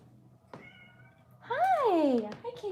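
A cat meows loudly and close by with one drawn-out rising and falling call, preceded by a small knock and faint room noise, with no one talking.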